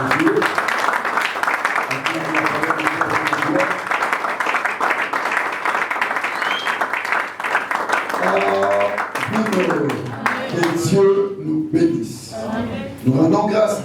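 A church congregation applauds and cheers in praise during a service, with dense, sustained clapping that fills the room before voices and singing rise over it toward the end.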